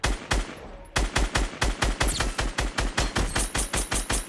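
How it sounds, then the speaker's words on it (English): Rapid, evenly spaced bursts of automatic gunfire from a Fortnite match, loud and close, firing steadily in a regular rhythm with no talking. "Let's see if we get some shots on him."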